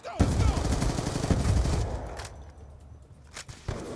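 MSMC submachine gun firing in Black Ops 2: a loud, rapid automatic burst lasting about two seconds, followed by quieter background noise and a few sporadic shots.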